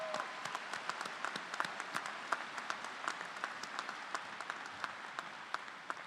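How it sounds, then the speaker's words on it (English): An audience at a college of creative arts commencement ceremony applauds mothers, steady moderate clapping from a crowd with distinct individual claps standing out throughout. "Let's give them a round of applause."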